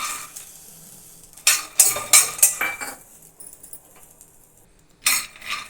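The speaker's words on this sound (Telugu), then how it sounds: "ఫస్ట్ పల్లీలు వేయించుకుందాం." A spoon scrapes and clinks against a pan as peanuts are stirred and roasted, giving a quick cluster of sharp metallic strokes, a pause, then another burst, close and fairly crisp with faint dry rattling.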